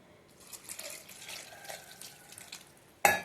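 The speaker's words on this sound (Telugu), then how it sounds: "వాటర్ దాంట్లో యాడ్ చేసుకోవాలండి." Water poured into a pot of lentils, with oil already added, while cooking pappu charu: a soft, uneven trickle and splash, ending in a sudden loud gush.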